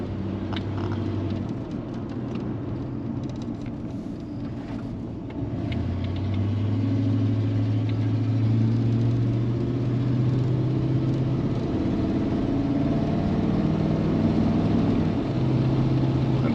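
A 1987 Chevy Silverado pickup engine rumbles steadily with a raspy, droning exhaust note from an exhaust leak, its pitch shifting as it changes speed, heard from inside or nearby.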